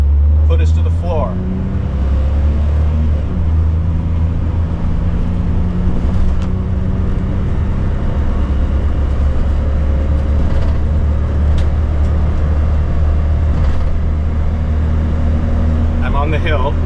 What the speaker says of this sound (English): I'm just gonna floor it and drive and see what happens.